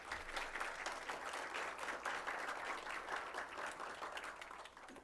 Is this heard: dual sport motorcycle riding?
no